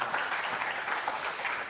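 An audience gives steady, dense applause for panel members at a public community forum on a bay agreement. The clapping is moderately distant, even and unbroken for under two seconds.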